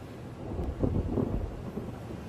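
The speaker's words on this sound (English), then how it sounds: "A thunderstorm?" Thunder rolls as a low, muffled rumble during a storm, swelling and fading over a couple of seconds against a soft wash of rain and wind.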